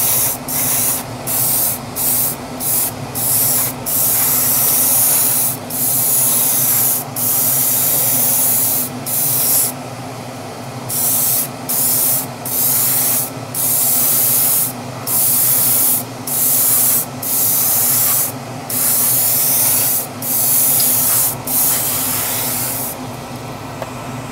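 Airbrush spraying a heavy final coat of paint onto a Tamiya Castrol Celica WRC model body: a steady close hiss in many short bursts with brief gaps, running continuously for long stretches without talk.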